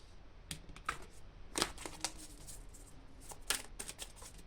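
Oracle cards shuffle close up in a quiet room, a rapid riffle of papery flicks and snaps in short bursts, soft but distinct, with no talking.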